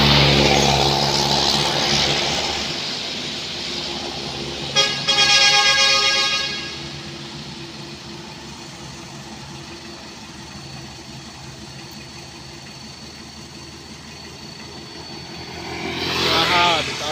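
A Colt Diesel truck labors up a steep incline, its engine a steady, heavy drone with a brief rattling surge partway through, then settling into a long low hum before rising again at the end.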